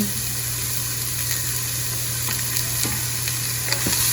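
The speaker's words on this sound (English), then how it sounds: "Sizzle, good. Love hearing sizzle. We'll add our onions in." Onions sizzling in hot oil, a loud steady crackle with occasional sharper pops, no voices.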